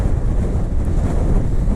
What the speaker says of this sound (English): the wind has picked up since earlier